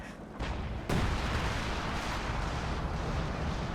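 ISU-152 self-propelled gun firing in Company of Heroes 2, a sharp boom close by followed by a heavy rumbling battle din that continues loud under a wall of background noise.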